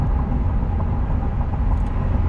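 A 2016 Ford F-150 pulls up a slight hill with steady, continuous engine and drivetrain drone, a low rumble holding even throughout with no distinct shift break standing out.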